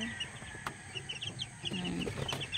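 Chicks in a cage give short, high cheeps, scattered and fairly faint over a low background murmur, with a few soft clucking notes mixed in.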